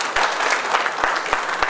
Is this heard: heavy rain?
no